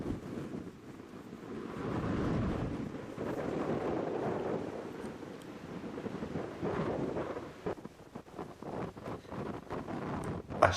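Strong headwind gusting across an outdoor golf course, a continuous low rumbling buffet of wind on the microphone that swells and eases over several seconds.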